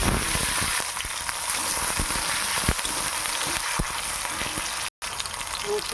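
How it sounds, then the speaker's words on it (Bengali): Cumin seeds, tomato and chopped onion fry in hot oil in a pan, giving a steady, loud crackling sizzle with scattered pops and one brief dropout near the end, no voices. "ওই তেলের মধ্যে একটু তেল দিয়ে দেবো আর একটু বেশি করে কয়েকটা জিরে দেবো তারপরে টমেটো আর পেঁয়াজের কুচিটা"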